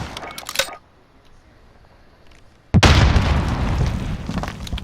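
A spawn tube fired in Modern Warfare: a sharp launch pop, a short quiet gap, then a sudden loud boom that trails into a sustained rushing roar, close and dominant.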